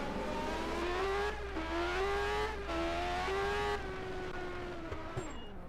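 A 1986 Formula 1 race car in a racing video game at the Hungarian Grand Prix, its engine droning loudly as it comes into the pits, pitch rising and dipping through gear changes before easing off near the end.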